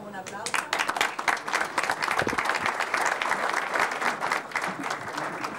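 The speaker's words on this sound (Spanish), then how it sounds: "le damos un aplauso" Audience applause after a short talk at a presentation on financing and insurance models, dense clapping filling the room for several seconds while a voice speaks over it.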